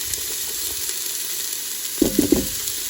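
Chopped yellow onion and celery sautéing in a Ninja Foodi pot, a steady close sizzle with a few short scraping stir knocks near the end, no voices.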